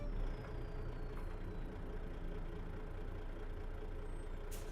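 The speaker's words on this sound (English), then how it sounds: "This Detroit 60 series sounds badass." A Detroit Series 60 diesel truck engine runs steadily in a truck-driving game, a continuous low rumble holding an even idle-like drone throughout, with no talk over it.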